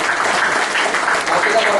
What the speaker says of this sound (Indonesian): kasih tepuk tangan dong buat firman Tuhan yang luar biasa